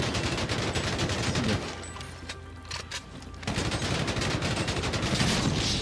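Sustained rapid gunfire in GTA 5 as a car is shot at, dense bursts of shots filling the whole stretch with a brief, slightly quieter lull in the middle.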